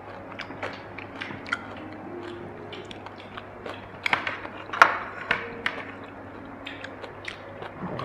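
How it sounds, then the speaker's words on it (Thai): Crispy pork and papaya salad (som tam) is chewed close to the microphone, with repeated crunchy bites and wet mastication sounds in an irregular rhythm and sharp crackling peaks. "มาค่ะทุกคนมากินส้มตำด้วยกันจ้า ไอ้กินหมูกรอบอยากกินส้มตำ"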